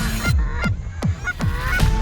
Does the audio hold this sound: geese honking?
yes